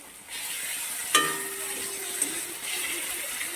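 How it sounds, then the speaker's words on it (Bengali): Tomato sautéing in a pan with salt and ginger paste gives a steady, moderate sizzle, broken by one sharp clink of a utensil against the pan near the start. "টমেটোটাকে ভালোভাবে কষিয়ে নেবো তার জন্য সামান্য আমি লবণ দিয়ে দিচ্ছি আদা বাটা দিয়ে দিচ্ছি"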